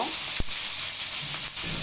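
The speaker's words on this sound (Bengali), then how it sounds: "মাছগুলো এক পাশ ভাজা হয়ে গেছে, আর এক পাশ উল্টে দিয়েছি।" Pangas fish fry in hot oil in a pan, with a continuous loud sizzle and a couple of brief sharp clicks from a utensil against the pan.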